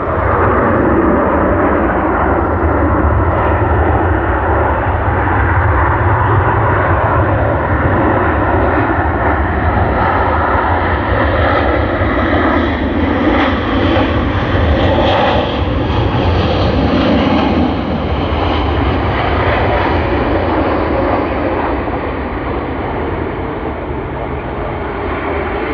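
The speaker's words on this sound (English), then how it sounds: "wonderful landing of Emirates EK412" Emirates EK412 jet airliner landing at Sydney Airport, a loud, continuous broadband engine roar that swells and holds steady throughout, close and dominant with no pauses.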